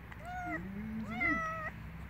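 A cat that has just caught a rabbit gives two close, clear meows, the second longer and rising, over a quiet outdoor background.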